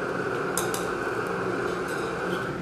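Hot oil sizzles steadily in a wok as dried radish goes in with fried egg yolk over low heat, with a couple of light metallic clinks near the start.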